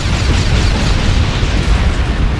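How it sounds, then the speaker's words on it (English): Bombs exploding in the Halo Wars strategy game, a continuous loud rumbling barrage of overlapping blasts and booms, dense and close throughout. "Initial bombs away."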